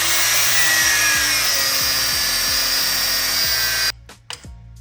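A corded 4.5-inch angle grinder cuts through rusted suspension bolts with a loud, steady, high-pitched metallic whine. It runs continuously up close, then cuts off abruptly near the end, leaving a few clanks.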